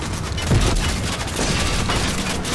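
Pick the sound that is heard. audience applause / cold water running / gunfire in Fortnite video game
gunfire in Fortnite video game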